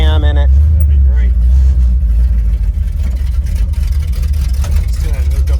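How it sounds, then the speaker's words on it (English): Budget 502 big block V8 swapped into a Chevy squarebody truck, a loud deep rumbling engine heard from inside the cab, running steadily, with people talking over it. "That can't be the stock cam, Clay. I think that's got to have a little cam in it"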